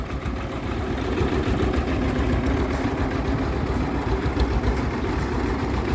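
A Xingtai 120 mini tractor's engine idles in a steady, even rumble, close and continuous throughout with no talking.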